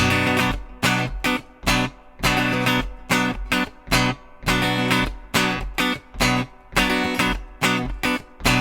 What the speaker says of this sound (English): Okay, so that all the way through will sound like this.